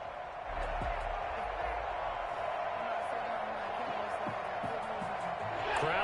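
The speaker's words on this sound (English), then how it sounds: "Crowd getting in it a bit already." Football stadium crowd roaring in a steady, dense wash throughout, with scattered whoops and claps rising near the end, while a voice talks faintly underneath.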